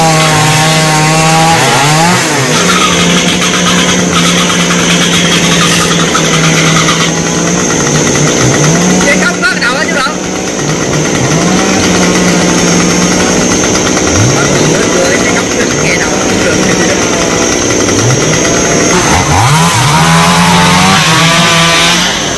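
A chainsaw cuts down a large ambarella tree standing between power lines and a fence, its engine loud and close, revving up and bogging down in repeated bursts through a long stretch with a brief lull midway.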